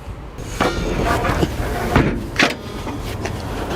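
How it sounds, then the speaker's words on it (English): The front seat of a VW California Beach T6.1 camper van slides backward on its rails, giving a series of mechanical clunks and scraping knocks at close range with no talk. "I've moved the seat to its furthest back position now"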